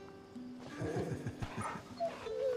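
A dog in the Final Fantasy 16 video game gives a few short whimpering barks and yelps in quick succession, close and moderately loud over soft game ambience.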